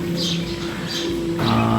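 Racing pigeons in a loft give soft, low cooing calls, close by and repeating in short phrases over a steady background hum.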